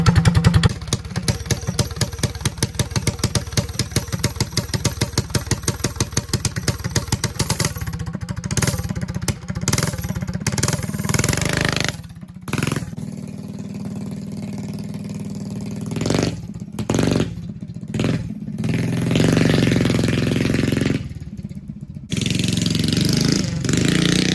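A Mega Moto 80 minibike engine on a cold morning starts and runs with a rapid, loud chugging rhythm close by, then stutters, with uneven bursts and brief drop-outs as the throttle is worked.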